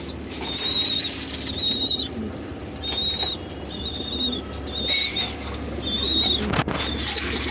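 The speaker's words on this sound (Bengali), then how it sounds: "এই পাশে কিছু নর কবুতর আছে" Pigeons coo in repeated soft phrases at a steady rhythm inside a pigeon house, with wings flapping and rustling nearby.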